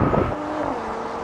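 Volvo S60 Polestar and rival cars pulling hard off the line in a drag race, a brief close engine roar with a rising tone that settles into a steadier drone.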